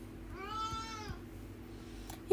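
A house cat lets out one clear, drawn-out meow up close in a quiet room, followed by a brief pause and a faint second squeak at the end.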